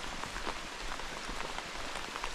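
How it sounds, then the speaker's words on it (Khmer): Rain falls steadily on a campsite, a dense, even patter of drops on surfaces close by, fairly quiet and continuous with no voices. "ជាក់ភ្លៀងហើយ"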